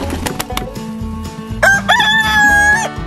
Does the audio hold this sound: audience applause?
no